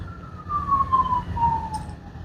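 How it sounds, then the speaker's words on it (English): An emergency vehicle siren wails steadily in the distance outside, its tone sliding slowly, over a low rumble of traffic. "Sorry if y'all can hear that siren in the background."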